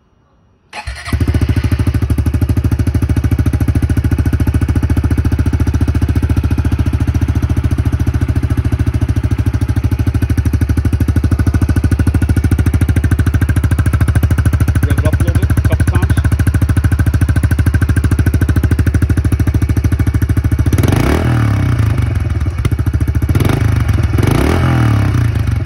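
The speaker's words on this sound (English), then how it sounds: "So we're gonna fire the bike up, let you listen to what the stock exhaust sounds like" Honda CRF110F dirt bike with its stock exhaust, cold-started after a brief quiet moment, then idling steadily with a rapid chattering putter, loud and close, with a couple of short throttle blips near the end.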